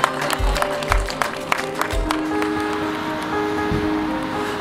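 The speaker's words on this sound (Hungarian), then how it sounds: "gyerünk le tapsolni!" Wedding guests clap together in a sustained, dense round of applause at moderate distance, with a few louder low thumps mixed in and no speech.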